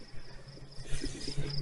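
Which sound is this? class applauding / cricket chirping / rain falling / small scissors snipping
cricket chirping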